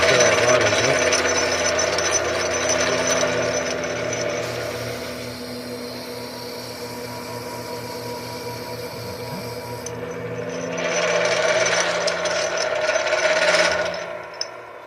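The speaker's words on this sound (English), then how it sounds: "this is a Vivor lathe, and I'm just pulling out the center of it so I can get the ferrite rod into it" A small Vivor lathe machines a bolt, boring out its center to take a ferrite rod, giving a steady mechanical whir and hum that swells louder near the start and again toward the end.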